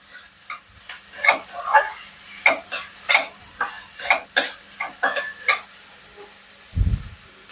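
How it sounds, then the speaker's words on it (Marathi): Vegetables sauté with a little salt in a pan over a soft sizzle, broken by a steady run of sharp spatula clicks and scrapes as they are stirred and tossed, ending with one low thump; no voices. "इथे मीठ घातलंय थोडस मी आणि हे परतून घेते"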